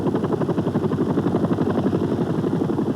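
A US Army helicopter evacuates wounded soldiers from a jungle clearing in Cambodia around 1970, its rotor beating in a loud, steady, close thudding rhythm that fills the whole clip without voices.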